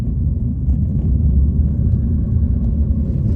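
A Nissan X-Trail driving the remote outback Connie Sue Highway, a steady deep rumble of engine and tyres heard from inside the car, continuous and loud with no voices.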